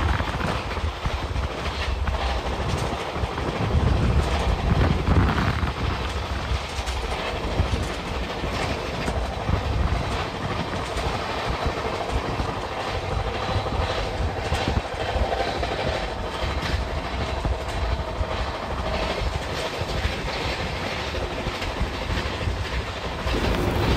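The Shantiniketan Express races along at high speed, its steady roar of wheels and rushing air carrying a continuous clickety-clack rhythm, loud and close throughout with no talking.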